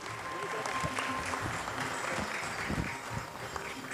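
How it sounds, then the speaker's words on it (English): Audience at a product launch event for a liquid laundry detergent applauding, dense steady clapping from a large crowd in a hall, with faint voices mixed in. "Ladies and gentlemen, please welcome with a big round of applause."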